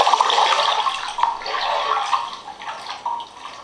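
Water splashes and runs in a bathtub or sink during a horror short film, sounding like busy, close washing noise with scattered drip-like hits and uneven surges, with no voices.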